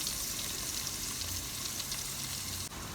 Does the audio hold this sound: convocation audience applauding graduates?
no